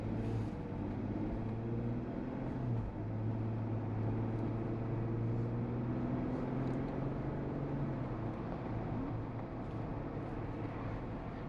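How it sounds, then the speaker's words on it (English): 2019 Jeep Wrangler Moab with its 3.6L V6 engine while driving, a steady low engine drone and road rumble heard from inside the cabin, with slowly shifting engine tones and no talking. "the V6 is definitely a proper engine for this car"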